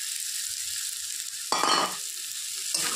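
Eggs fry in a hot pan with a constant bright hiss, broken by two louder, rougher bursts of sizzling and stirring close by.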